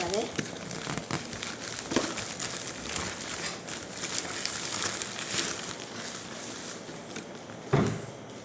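A courier package holding a new gaming headset is torn open and unwrapped. Steady crinkling and rustling of packaging runs close by throughout, with a sharper rip near the end, while a person talks over it.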